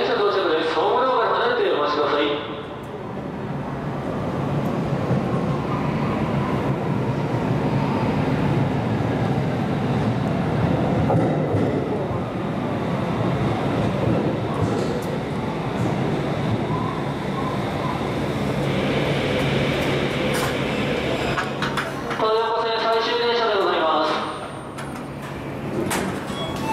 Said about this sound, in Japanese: 3番線電車到着です。